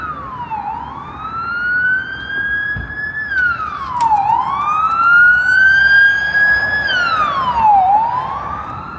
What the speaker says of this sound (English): first siren of the stream